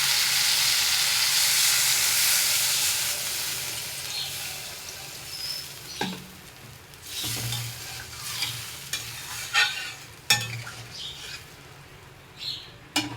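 Water poured into a hot frying pan used for cooking fish, giving a loud broadband sizzle that slowly fades, followed by quieter crackling, stirring and a few sharp clatters of utensils.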